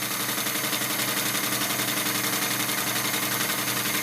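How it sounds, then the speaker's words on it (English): A sewing machine runs continuously, stitching a quarter-inch seam along a fabric edge for a Christmas pillow, with an even, rapid mechanical whir and tick held at close range. "we're going to go ahead and sew this guy together"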